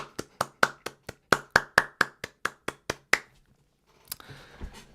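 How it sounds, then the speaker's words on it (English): A short burst of hand clapping, about fifteen distinct loud claps in a steady rhythm over three seconds, like one or two people applauding at a stream, then quiet and a faint rustle. "can we get a massive round of applause, please, for Return by Ben."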